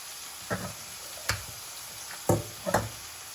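Oil spits and pops in a frying pan while cooking banh mi filling: four distinct crackling bursts over a soft, steady sizzle, close and fairly quiet.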